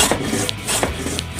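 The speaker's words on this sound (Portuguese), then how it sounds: "Então fazia um negócio para polir essa tábua aqui, ó. Para ela ficar retinha, lisinha." An old, dull hand plane rubs and rasps along a wooden board in slow, repeated scraping strokes, close and loud with no voices.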